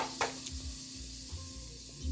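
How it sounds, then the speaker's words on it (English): Butter sizzles steadily in a hot pan, a soft continuous crackle with a few faint clicks and taps, no voices. "we hear the sizzle of the butter"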